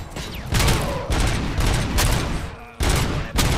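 Heavy turret gunfire in the video game RoboCop: Rogue City rattles in loud, dense bursts of rapid shots. Several barrages follow one another with brief dips between them, and a rumble of explosions sits under the shooting.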